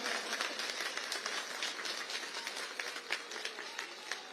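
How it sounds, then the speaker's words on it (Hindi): Crowd at an Amit Shah election rally in Kalkaji, Delhi claps continuously, a dense patter of many hands with sharper individual claps standing out, heard at a moderate distance. "श्री रमेश विदुड़ी जी के लिए जोर से ताली बजाइए जरा"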